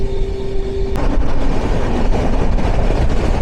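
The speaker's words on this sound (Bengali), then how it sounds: "ফলকনামা ক্রস করছে 12704 ফলকনামা এক্সপ্রেস।" The 12704 Falaknuma Express roars past a waiting train at Kalupara Ghat station, a loud, close, continuous rumble of wheels and carriages after a brief tone at the start.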